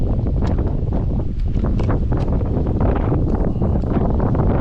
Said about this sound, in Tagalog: Sobrang hangin na.